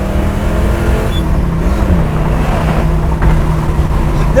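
A 1969 Camaro RS/SS accelerates hard through its gears, its engine a deep, loud, continuous rumbling roar heard from inside the car, with the pitch shifting slightly as it climbs.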